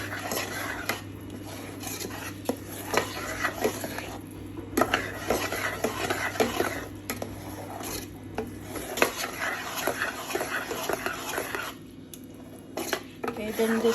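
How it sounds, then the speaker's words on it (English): Spoon scraping and stirring tomato puree with onions and masalas in a pan while cooking North Indian rajma: steady close scraping and knocking against the pan, repeated in an uneven rhythm for the whole stretch. "Mix it well with the onions and the other masalas you've added."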